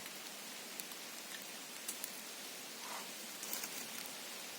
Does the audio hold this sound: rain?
yes